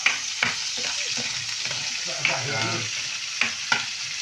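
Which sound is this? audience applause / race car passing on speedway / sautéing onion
sautéing onion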